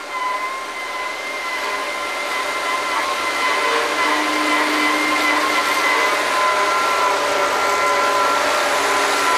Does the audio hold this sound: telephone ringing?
no